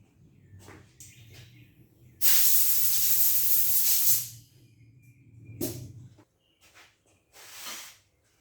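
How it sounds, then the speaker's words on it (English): A compressed-air hose blasts a small Briggs and Stratton engine part clean in one loud hissing burst lasting about two seconds, followed by shorter, fainter puffs of air. "You take air hose, you blow that off"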